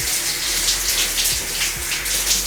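A bathroom shower runs in a steady, dense hiss of falling water spattering on a surface, close and continuous, with faint low thumps underneath and no talking.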